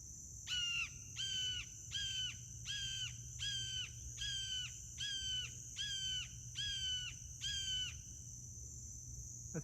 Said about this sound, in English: There's a hawk up there in the tree that keeps cawing at me.